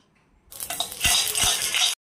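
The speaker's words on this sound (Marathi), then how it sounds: "मंद गॅसवर मोहरीला चांगलं तडतडून द्यायचं, म्हणजे खरपूस परतून निघते" Mustard seeds roast in oil in a kadhai over a low flame, giving a close, dense sizzling crackle that rises quickly and stays loud for about a second and a half before cutting off, with no talk.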